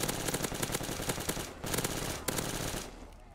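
Rapid automatic gunfire from a Call of Duty Zombies match, a dense loud burst of shots running almost continuously, with two short breaks, then trailing off at the end.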